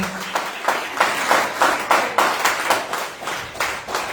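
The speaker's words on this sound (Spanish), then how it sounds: "¿Podría darle un aplauso al Señor esta mañana preciosa?" At a Sunday morning church school service, the congregation claps together in a steady rhythmic beat, about two claps per second, loud and close with a brief voice at the very start.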